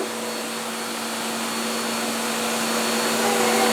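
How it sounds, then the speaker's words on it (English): A small child runs a household vacuum cleaner indoors, giving a steady, loud whirring drone with a constant hum that holds on without pause and swells slightly toward the end. "The youngest vacuum cleaner."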